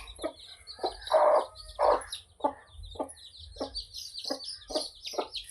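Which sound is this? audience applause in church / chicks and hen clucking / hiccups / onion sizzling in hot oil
chicks and hen clucking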